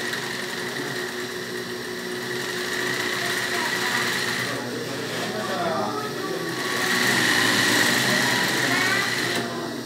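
Singer 20U embroidery sewing machine stitching a straight seam, a rapid continuous mechanical whir and clatter nearby that swells louder toward the end, with a voice speaking over it.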